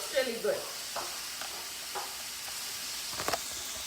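Shakshuka sizzles steadily in a skillet, a soft constant frying hiss with a few brief stirring scrapes and clinks near the end, no voices.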